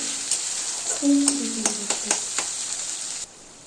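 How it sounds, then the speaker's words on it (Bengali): Ground spices, turmeric, chilli powder, cumin and salt, frying in a pan while a spatula scrapes and taps through them in a series of sharp strokes over a continuous sizzle, ending abruptly. "এবারে আমি 5 রকম মশলা, ঝাল, হলুদ গুঁড়ো, লঙ্কা গুঁড়ো, জিরে গুঁড়ো আর লবণটা দিয়ে ভালো করে নাড়াচাড়া করে"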